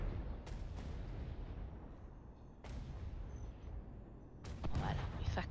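Cannon fire in the pirate naval game Atlas, several heavy booms with rumbling tails spaced a couple of seconds apart, fairly loud, with a bursting cluster of shots near the end and murmured talk underneath.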